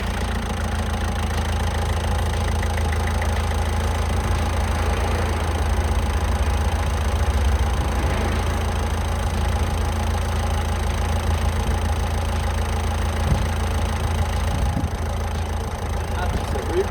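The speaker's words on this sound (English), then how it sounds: "I want to test that the engine actually works" A Peugeot 1.6 HDi diesel engine idles steadily and close, a continuous low rumble with a light rhythmic diesel clatter, running alone with no talk.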